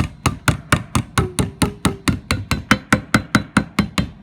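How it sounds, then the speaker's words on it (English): A hammer tapping a paint can lid shut, a steady series of about eighteen sharp metallic taps at an even rhythm, close and loud, with no talking. "you may want to tap it with a hammer"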